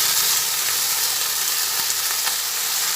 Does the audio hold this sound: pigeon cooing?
no